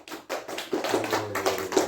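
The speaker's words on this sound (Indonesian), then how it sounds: "Tepuk tangan dulu" A classroom of students claps hands together, a fairly close flurry of quick uneven claps that swells and continues for a couple of seconds.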